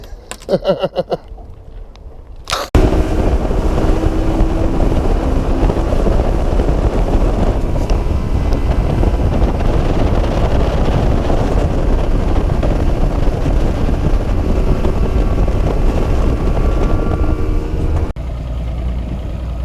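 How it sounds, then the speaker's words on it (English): A battery-powered trolling motor on a fishing boat, batteries running weak, straining against a strong river current: a steady close droning whir with wind noise, running unbroken for about fifteen seconds after a few brief knocks, then easing slightly. "The batteries in the trolling motor are getting pretty weak. It's got a lot of current that it's trying to fight, so it's working hard."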